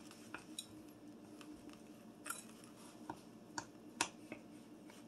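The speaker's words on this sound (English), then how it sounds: "You go ahead and mix all the ingredients." Spoon clinking and scraping in a bowl while cranberry muffin batter ingredients are stirred, soft irregular taps at close range in a quiet kitchen, with no talking.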